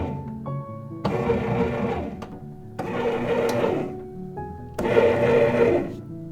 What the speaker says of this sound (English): The bread machine's gonna do most of the work for me. It's gonna knead it and mix it.